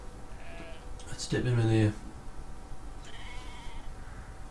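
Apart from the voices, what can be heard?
sheep bleating in video game Brothers: A Tale of Two Sons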